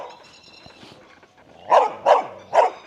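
A dog barks three times behind a fence in a suburban estate, loud and close, following quieter background sounds.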